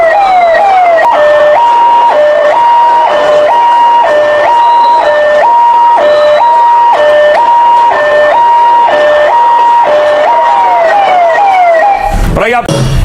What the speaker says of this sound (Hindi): फौरन इस भीड़ ने रास्ता दिया और फौरन एम्बुलेंस गुजरी है।